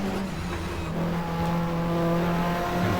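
Racing cars roar past at full throttle in a continuous loud engine drone as they take the chequered flag at Eastern Creek, 1994 GTR2 Australian Manufacturers Championship race, close and dense with overlapping revving.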